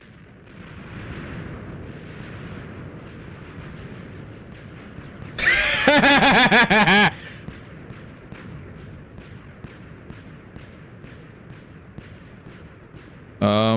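Explosion sound effects blare from a frozen Minecraft game, a loud dense burst of booming noise lasting about a second and a half mid-clip, with a second burst starting at the very end, over quieter background noise.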